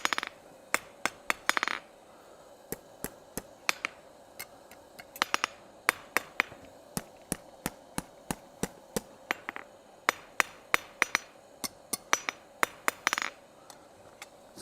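Bright, ringing hammer blows on hot metal over the edge of an anvil at a blacksmith's forge, struck in quick irregular bursts with clinking rebounds, loud and close throughout.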